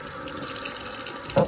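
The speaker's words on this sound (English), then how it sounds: "So you're just gonna rinse them into the sink" Water runs from a sink tap as dirty vegetables are rinsed, a steady splashing stream with light shifts and a brief louder gush near the end.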